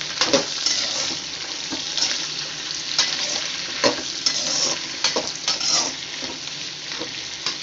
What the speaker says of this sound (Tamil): இப்போ நம்ம வந்து குடமிளகாயை போடுவோம்